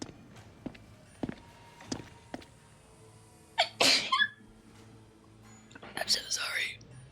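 A person lets out a sharp, close sneeze, followed by a second burst of loud noise moments later, amid scattered taps and footsteps with whispered talk around it.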